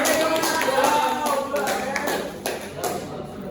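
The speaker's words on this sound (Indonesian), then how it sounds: "tepuk tangan dulu guys semua." A class claps after a presentation in a classroom, a scattered burst of hand claps over murmuring voices that thins out and fades into separate taps toward the end.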